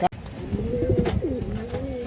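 Old Bradler down-shape pigeons coo close and clear, a rolling, wavering call that rises and dips for about two seconds after a sharp click at the start.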